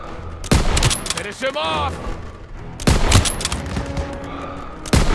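Gunfire in a World War 2 video game: several sharp, loud shots and bursts at intervals, with a distant rumble in between, while voices shout over the action.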